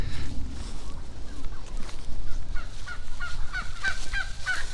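A flock of turkeys gobbles and honks close behind walkers on a Norfolk country lane in December, repeated harsh calls growing busier over a low steady background rumble.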